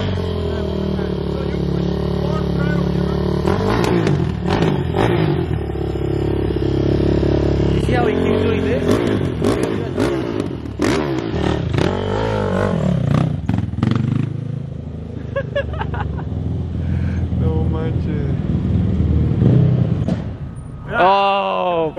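A car engine in sport mode revs hard and loud, up close and continuous, with speech over it.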